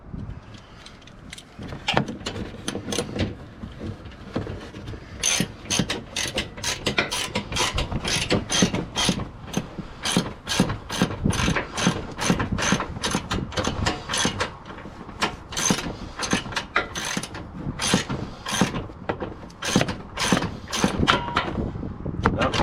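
A ratchet runs a nut down onto the upper control arm of a 2009 Ram 1500 2WD, making long stretches of rapid, loud, close clicking in repeated bursts with short pauses.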